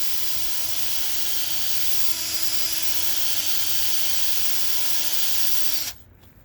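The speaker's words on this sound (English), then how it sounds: "attach it to a drill, squeeze it right in here," A power drill spins a cleaning brush inside a car brake caliper, giving a steady, loud whirring drone with a constant tone that runs for several seconds and then cuts off abruptly.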